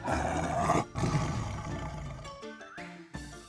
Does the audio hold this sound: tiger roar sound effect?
yes